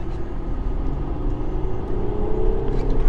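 An Audi A6 3.0 engine revs up while accelerating on the road, a loud steady rumble rising in pitch, with faint talk over it.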